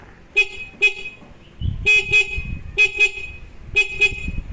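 A stock car horn honks in short pairs of beeps, repeated four times, loud and close over a low engine rumble.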